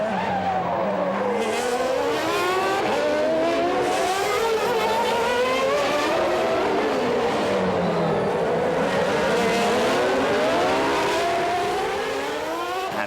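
1994 Formula 1 cars race past, high-pitched engines wailing and rising and falling in pitch as they accelerate and shift, a steady loud roar from several cars throughout.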